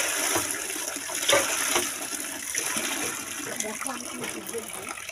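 Tap water gushing steadily into a basin as produce is rinsed, a continuous splashing rush with small irregular sloshes, alongside a voice talking.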